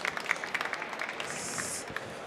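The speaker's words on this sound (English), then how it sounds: "Warm applause for you." Audience applause after a technical talk on hydrogen-on-demand PowerPaste technology, a soft, fairly distant patter of clapping from a modest crowd, with a few louder claps near the start.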